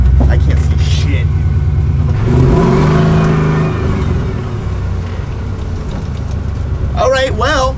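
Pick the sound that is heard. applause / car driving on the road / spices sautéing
car driving on the road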